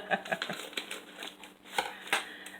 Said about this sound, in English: we're going to take scissors and open it.